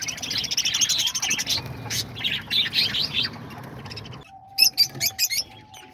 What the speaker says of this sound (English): here we are with the little lovebirds, peach-faced lovebirds